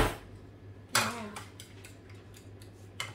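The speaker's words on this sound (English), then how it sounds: "And then we can start mixing it with a fork." A fork clinks and scrapes against a bowl while breakfast food is mixed, with a few sharp, close metallic taps spaced irregularly over a quiet background hum.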